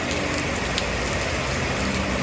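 Rain falls at Bloom Garden in Baturiti, Tabanan, heard from a sheltered spot by an office front as a steady, dense broadband hiss with no pauses, close and even for the whole stretch.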